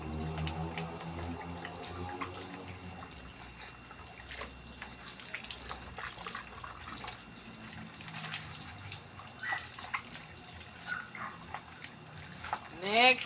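Hot water runs steadily from a tap during a bath, a continuous splashing hiss with occasional drips, close by, with a voice talking faintly over it at times.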